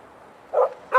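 A dog on a beach gives two short, yappy barks over a quiet background, with a brief gap between them.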